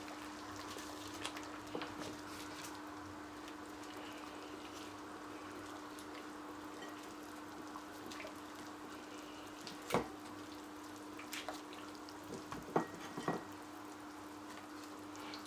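Water boiling in a big pot for cooking conkies, a faint steady bubbling and simmer under a low hum, with a few brief louder knocks and clinks.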